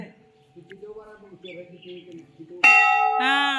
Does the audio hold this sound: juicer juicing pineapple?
no